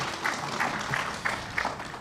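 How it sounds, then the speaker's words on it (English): A modest outdoor crowd at a labor monument groundbreaking in Chicago's Pullman community applauds, scattered clapping with a few louder individual claps standing out, moderately distant. "we want to give the National Park Service a round of applause"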